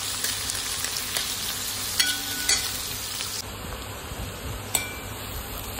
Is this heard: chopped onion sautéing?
yes